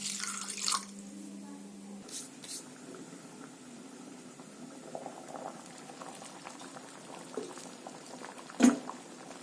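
A pot of sambar with vallarai greens bubbling steadily at a low simmer, soft bursting bubbles throughout with a brief clank and a sharp knock near the end.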